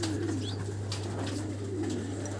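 A racing pigeon gives soft, low, rolling coos, two close phrases from nearby, over a steady electrical hum.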